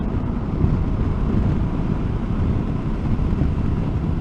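Steady, heavy wind roar buffeting the microphone, a constant low rumble with no pauses and no voices.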